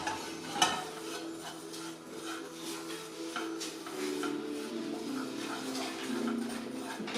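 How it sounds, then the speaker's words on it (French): A spoon stirs sweet cinnamon dahl with maple syrup and spices in a pot, giving soft, irregular scraping and clinking that is quiet and close. "Donc on remue bien. On mélange bien les saveurs."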